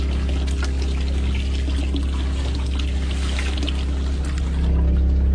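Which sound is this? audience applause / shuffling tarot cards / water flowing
water flowing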